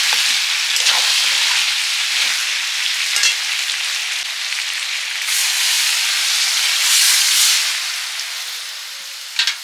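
Water poured onto meat and round potatoes frying in a pan sets off a loud, continuous steamy hiss and sizzle that swells and fades, with a few faint clinks, close by and with no talking.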